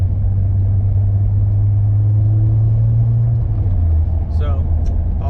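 A car with its supercharger removed drives on a test run, its engine giving a steady, loud low rumble that shifts down slightly near the end, with a brief higher sound at the close.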